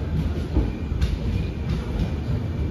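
Night King superfast express from Belagavi runs through Londa junction without stopping, a loud continuous rumble and clickety-clack of wheels from inside the train, with a brief sharp click partway through.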